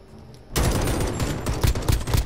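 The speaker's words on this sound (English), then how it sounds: "How did he shoot you through the wooden steps?" Rapid gunfire bursts from a multiplayer shooter match, with shots fired through wooden steps. They erupt suddenly after a quiet moment and continue loud and dense in quick clusters.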